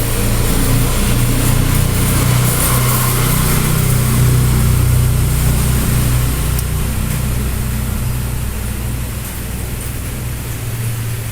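A diesel car engine running rough runs continuously and loudly up close, a deep rough rumble with a steady mechanical clatter and no break.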